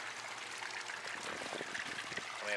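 Water trickling and gurgling through a homemade bell siphon draining a fish tank, a soft, continuous close-up pouring and splashing stream with small bubbling pops, fairly quiet throughout.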